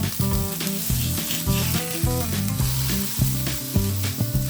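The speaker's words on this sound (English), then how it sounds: "Put 1 tablespoon of oil and put your burger patty. It's frying now." A chicken burger patty fries in a tablespoon of oil, its continuous hiss and sizzle running under rhythmic backing music with clear tonal notes and beats.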